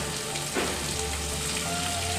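Sliced onion sizzles steadily in hot oil with dried red chili and cinnamon while cooking a spicy Bengali katla fish dish, a close, continuous crackle with no talking.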